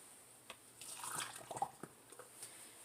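Brine for bread and butter pickles is scooped with a cup and poured through a funnel into canning jars. Quiet, close splashes and trickles come in short bursts.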